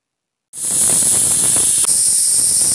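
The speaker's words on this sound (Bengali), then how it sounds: "তো আমাদের এই প্রেসার কুকারের সিটি রেডি হয়ে গেছে।" A pressure cooker of khichuri cooking in a village kitchen releases steam, starting abruptly as a loud, steady, close hiss that keeps on with one brief dip partway through.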